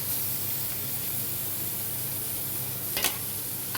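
Ivy gourd (gokarakaya) pieces hiss and sizzle in a frying pan for a curry, a steady close crackling fry with a brief sharper burst near the end, no talking.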